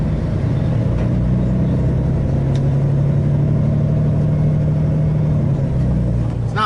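A Kenworth T880 dump truck is pushed along by a D6 dozer at a job site while dumping into a spreader box, giving a steady, loud diesel engine rumble with a drawn-out low drone throughout.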